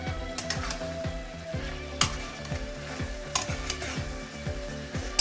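Flat beans and potatoes are stir-fried with spice paste in a pan for a Bengali bean curry with lentil dumplings. A steady frying sizzle runs throughout, broken by occasional scraping stirs, over background music.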